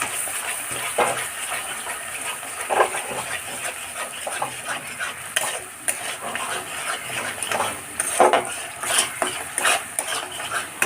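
Food is stirred in a pan after sour yogurt has been added, with steady scraping and light clinks of a utensil against metal and a faint sizzle underneath.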